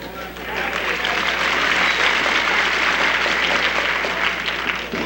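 A wrestling crowd applauds at a live match, dense sustained clapping filling the hall evenly throughout, loud and continuous.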